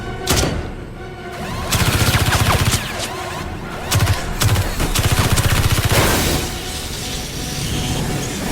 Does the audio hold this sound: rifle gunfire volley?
yes